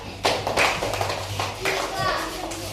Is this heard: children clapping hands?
yes